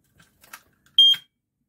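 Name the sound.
smoke detector alarm beeping during test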